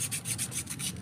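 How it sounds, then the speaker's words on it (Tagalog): Sandpaper rubs rhythmically back and forth along a shaft in quick, even strokes, close and alone. "So kailangan muna nating lihain yung shafting nya."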